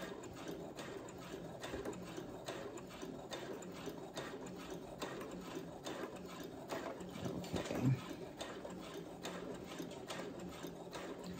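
A Brother sewing machine stitches fabric with a steady, close, mechanical whir and a fast, even run of ticking needle strokes. A brief louder knock sounds near the end, and no one speaks.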